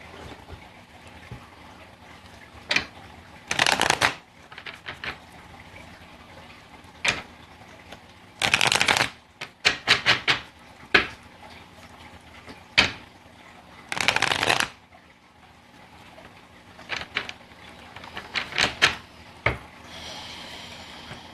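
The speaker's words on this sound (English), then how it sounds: "Alright, let's pull some cards out from this deck as well. Give it a bit of a shuffle." Several bursts of card shuffling, riffles and bridges separated by pauses and lighter handling of cards, fairly close and clear with no talk.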